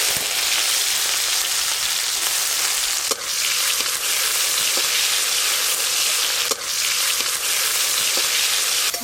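Chopped tomatoes frying in hot oil with kalonji for a Tangra fish curry, a loud continuous crackling sizzle close up, broken by a couple of brief stirring knocks.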